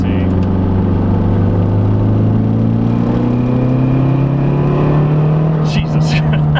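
Big-turbo Saab 9-5 making about 550 wheel horsepower, pulling hard as it rolls into boost, a steady rising engine drone with climbing harmonics, loud and close from inside the cabin, with a brief hiss or flutter near the end.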